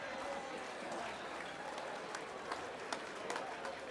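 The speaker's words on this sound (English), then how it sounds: "Let's give him a round of applause," Audience applause fills a boxing event hall as a fighter is introduced in the ring, a dense, fairly distant wash of clapping with a few sharper individual claps standing out near the end.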